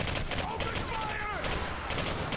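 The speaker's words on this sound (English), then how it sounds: "I'm already opening fire." Rapid gunfire from the Singularity video game crackles continuously in a dense, loud barrage, with game voices shouting over the shots.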